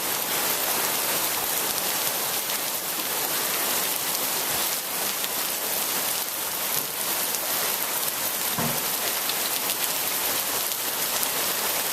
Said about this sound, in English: Now there's very little wind, but moderately heavy rain, not super heavy by any means, and hail, a steady flow of hail.